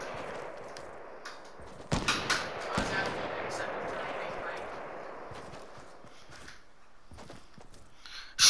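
Rapid gunfire from a Fortnite match during a crowded multi-squad fight, sharp close bursts around the two-second mark over steady game noise, with players talking.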